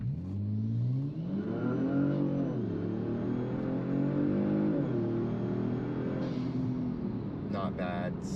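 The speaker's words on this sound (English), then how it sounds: "let's go ahead and try a 0 to 60 without using the paddle shifters here." A 2019 Kia Stinger accelerates hard from standstill toward 60 mph, heard from inside the cabin, its engine note climbing through several gear changes with loud, steady roar.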